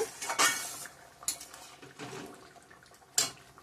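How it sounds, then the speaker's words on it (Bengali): Fish dropped into a metal pot of elephant foot yam curry, with several sharp clanks of utensils against the pot and a soft splash and stir, close and fairly loud with quiet gaps between. "এখন মাছটা ছেড়ে দেব"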